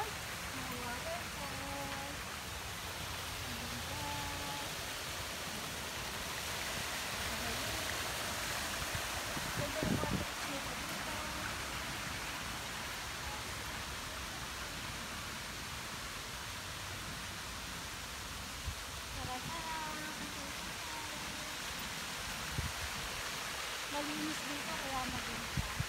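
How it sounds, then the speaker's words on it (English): Autumn waterfall in Melbourne, a constant broad rushing roar of falling water heard steadily throughout at moderate distance, with faint scattered voices in the background. "Tapos, mga waterfalls."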